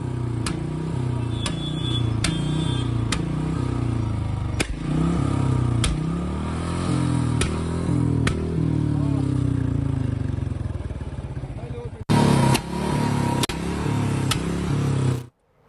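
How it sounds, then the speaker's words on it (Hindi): A motorcycle engine revs repeatedly in loud bursts over a steady low rumble, with a brief cut partway through and voices faintly underneath. "युवक के बाइक से शोर करने से सड़क पर अफरा तफरी मच गई"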